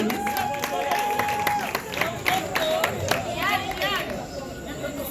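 A crowd claps and cheers amid lively chatter at a first-anniversary celebration, with voices talking over the applause throughout.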